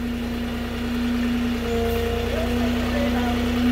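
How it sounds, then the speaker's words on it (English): A big off-road forklift engine runs at a steady idle nearby, a low continuous rumble with a faint hum, as a person talks over it. "It's still a big forklift. It's really for off-roading."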